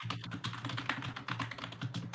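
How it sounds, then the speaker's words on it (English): Computer keyboard typing during a gaming livestream: rapid, dense clicking of keys with a steady rhythm, close and fairly loud, with no voice over it. "Keyboard noises."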